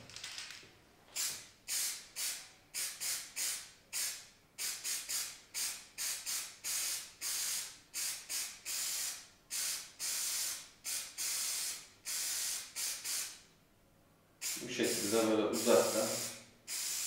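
Aerosol coating sprayed onto a car headlight as part of a headlight restoration, heard as a long run of close, loud, evenly spaced hissing bursts, followed at the end by a rougher, lower hiss.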